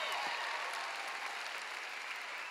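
A church congregation claps and cheers at a healing conference service, steady dense applause with crowd noise filling the whole stretch, loud and sustained without a pause.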